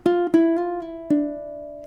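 Ukulele lick from a song, with four plucked notes ringing out clearly and percussive slaps on the strings between them, played alone and up close.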